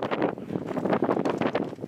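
Gusty wind buffets the microphone on a rocky mountain path, rising and falling in close rumbling bursts with no speech.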